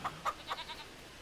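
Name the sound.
goats in Farming Simulator 25 video game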